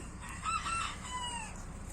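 A rooster crows once, a drawn-out call rising and falling over quiet outdoor background noise.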